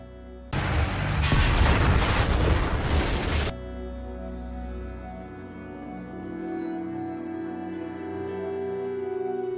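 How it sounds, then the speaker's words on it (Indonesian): A car rigged with a planted bomb blows up after crashing through a fence in a film scene: a sudden loud, dense blast lasting about three seconds, then cutting to a lingering low droning rumble and ringing tones. "mobil si penembak meledak setelah menerobos pagar yang sudah Asyok pasangi bom"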